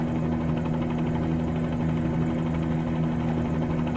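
A Bell-47G helicopter hover-taxis down a runway in Toronto, and its engine and rotor make a loud, steady, close drone with a strong low hum that holds without a break.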